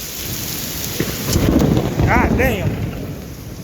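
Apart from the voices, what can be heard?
thunderstorm with heavy rain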